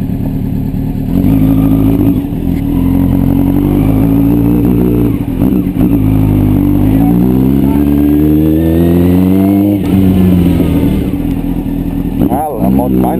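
Honda Hornet motorcycle engine revving up and down through several sweeping pitch climbs, loud and close, with voices talking over it at times.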